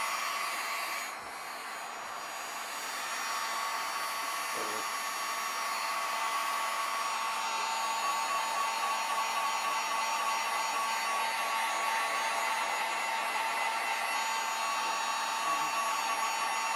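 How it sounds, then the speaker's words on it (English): A hair dryer blows with a steady, loud whirring roar that runs without pause for the whole stretch, no talking. "Can do this with a hairdryer."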